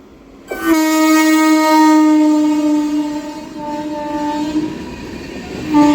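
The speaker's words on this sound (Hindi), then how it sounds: "ये आ रही है सामने से पटना छत्रपति महाराज टर्मिनल सुपरफास्ट सुविधा एक्सप्रेस, और ये अपनी ट्रेन को ओवरटेक कर रही है" The Patna superfast Suvidha Express slowly overtakes a halted MEMU train, sounding a long, loud, steady horn blast over the rumble of rolling wheels.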